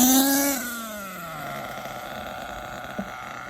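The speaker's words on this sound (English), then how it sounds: "this is a really sickening engine." A Hong Nor Force 32 5.2cc nitro engine runs in an HPI Trophy Truggy during break-in, its high revving whine dropping in pitch and settling into a steady, buzzy idle, close and loud.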